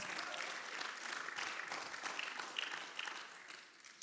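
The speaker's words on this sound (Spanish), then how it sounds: "Give the Lord an applause." A church congregation applauds during a sermon with a brisk, moderately distant burst of clapping that tapers off toward the end.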